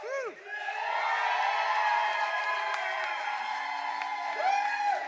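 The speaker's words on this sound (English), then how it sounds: "all you have to do if you want the negative to win is cheer louder than the first cheer" A comedy science debate audience cheering and whooping loudly for the negative team, a sustained swell of many voices with shrill whoops at the start and end.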